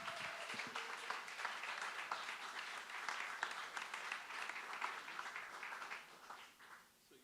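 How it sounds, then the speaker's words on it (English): Sustained applause from an audience welcoming Jason Scott to the stage at a talk, steady and dense for several seconds before tapering off near the end. "Give a big round of applause for the best dressed man in the house"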